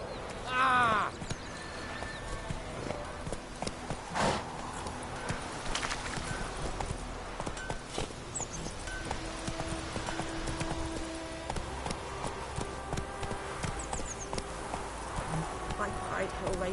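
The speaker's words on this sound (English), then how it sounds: "Run, Roach." A horse gallops in The Witcher 3 on PS4 with a steady, rapid clip-clop of hooves, a whinny near the start and other game sounds mixed in.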